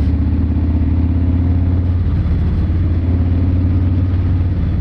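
A Harley-Davidson Fat Bob motorcycle engine runs steadily during a ride, a loud continuous low rumble with a slight mid-clip shift in pitch and no voices.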